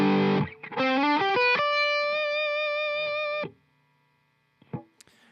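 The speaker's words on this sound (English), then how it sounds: "here's what it sounds like with the overdrive." An electric guitar plays through the right side of a True Tone VS EXO dual overdrive pedal, a loud, distorted run of notes climbing into a long sustained chord that rings out, then falls silent before a brief pluck.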